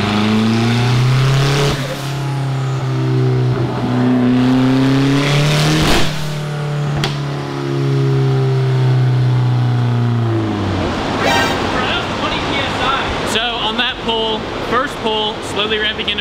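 A turbocharged Mitsubishi 4G63 engine makes a baseline pull on a dyno, roaring loudly as it climbs steadily in pitch, then drops off with whooshing turbo and exhaust noise and rattling afterward, up close and sustained.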